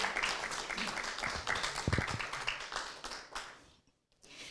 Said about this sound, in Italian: Facciamo un applauso più forte alla nostra vincitrice